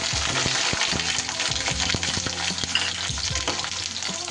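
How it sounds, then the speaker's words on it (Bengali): Cubed capsicum sizzling in hot mustard oil, a dense steady fry with scattered crackles and the clatter of a spatula stirring through the pan. "তেলটা গরম হলে এর মধ্যে দিয়ে দেব আমি কিউব করে কেটে রাখা কিছুটা ক্যাপসিকাম"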